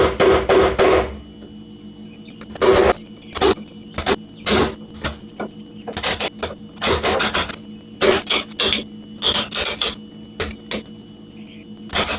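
Hammer striking a wood chisel to cut a door latch recess into a wooden door edge during door knob installation: repeated sharp taps in quick bursts and clusters, close and loud, with short pauses between.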